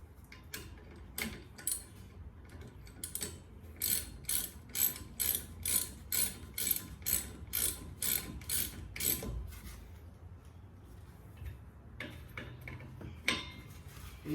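Brake caliper bolts on a Holden VZ Adventra are tightened with a hand ratchet, a run of crisp, evenly spaced clicks that speeds up and then slows near the mic, with no talking.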